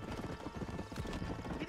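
A horse galloping in Red Dead Redemption, rapid rhythmic hoofbeats thudding steadily under a continuous low rumble, close and sustained.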